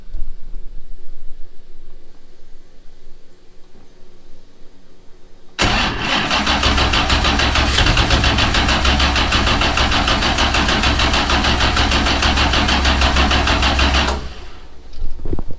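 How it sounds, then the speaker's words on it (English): A 427ci LS V8 car engine cranks slowly with a loud, rapid mechanical chatter for several seconds, then stops, over a quiet background. "Cranking kind of slow"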